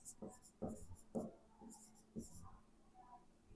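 Chalk or marker scratches across a classroom board in short strokes, several quick scraping bursts close by and faint, with a teacher's voice speaking softly between them.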